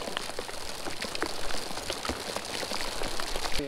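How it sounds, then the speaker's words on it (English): Heavy summer rain falls during a white bass fishing trip, a dense steady patter of drops with scattered sharper hits all the way through, and a brief tonal sound right at the end. "Is the rain supposed to be this big"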